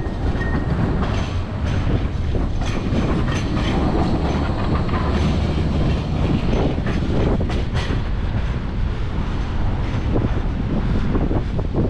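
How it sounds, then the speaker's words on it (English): A Blackpool tram rumbles past close by, a loud continuous rush of rolling wheels and rattling with wind buffeting the microphone, and no voices. "There's another tram."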